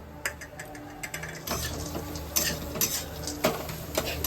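Pistachios, cashews and raisins tumble from a bowl into sweet semolina halwa made with ripe banana, giving scattered light clicks and taps against the pan, up close with no talking.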